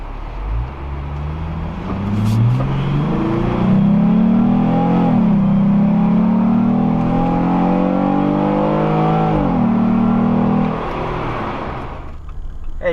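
A 2018 Jeep Rubicon JL fitted with an aFe Momentum GT cold air intake accelerates through its gears. The engine rises in a loud, close rev, drops at each shift, climbs again and then eases off, with no talking.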